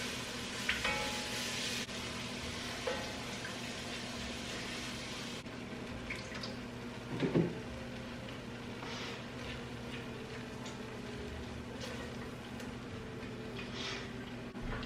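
Broth and whole milk gradually stirred into chicken pot pie filling in a pot, a steady soft liquid wash with faint sizzle, a brief louder splash or scrape midway, no talking.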